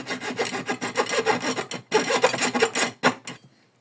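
A hand saw rasps back and forth through plastic pipe in quick, rhythmic strokes, close up, pausing briefly before a final few strokes and stopping.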